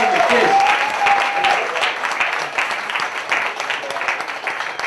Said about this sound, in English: Clap it up one more time for Mark Grist all the way from